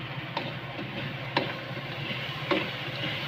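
Chicken stir-frying in a pan for sanpei-style chicken, a steady close sizzle of oil with sharp spattering pops and utensil clicks breaking through at intervals, no voices.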